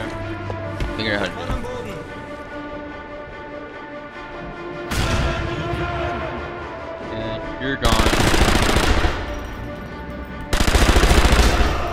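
Bursts of rapid gunfire in the Sniper Elite video game, loud and close, with sustained volleys late in the stretch over a background of game ambience.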